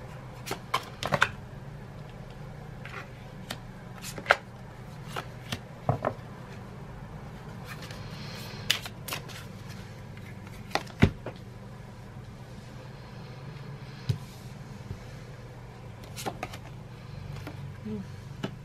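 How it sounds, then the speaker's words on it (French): Tarot cards being turned over one after another, sharp light card flicks and taps scattered irregularly over a quiet room hum, some close together and others spaced apart. "je veux d'abord retourner toutes les cartes afin de pouvoir faire la lecture complète"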